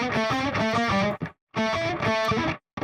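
Electric guitar with distortion plays a short lesson exercise phrase in two quick bursts of picked notes, each cut off abruptly with brief silence between, close-miked and without talking.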